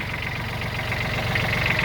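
A Kubota Aste A155 mini tractor fitted with a rotary tiller idles nearby outdoors, its engine giving a steady, close, loud knocking rumble that holds even throughout, with no talk.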